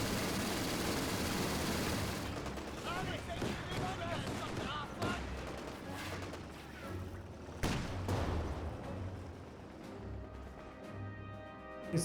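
A 6-pounder anti-tank gun fires in the Company of Heroes 2 video game, with sharp reports and bursts cutting through a dense, continuous roar of battle noise.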